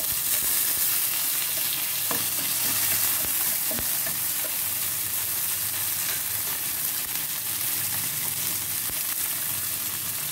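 Fresh sweet corn and carrot frying in a pan, giving a steady, continuous sizzle with a few soft stirring clicks and no talking.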